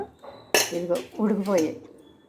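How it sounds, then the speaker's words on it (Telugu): A pressure cooker is opened, giving a sharp metallic clank followed by a few scraping, rattling clatters of the lid and pot, close and brief. "ఇదిగోండి తీస్తున్నాను కుక్కర్."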